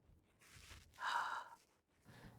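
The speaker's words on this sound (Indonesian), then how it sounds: "Kita berhenti aja ngos-ngosan." Heavy, labored panting near the summit of Mount Fuji at high altitude, with a sharp gasping inhale in the middle between quieter breaths, close and fairly loud.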